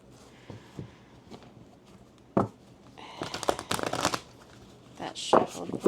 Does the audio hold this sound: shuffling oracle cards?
yes